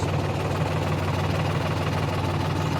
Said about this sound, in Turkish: Yolumuzun geri kalan kısmını traktörle devam ediyoruz.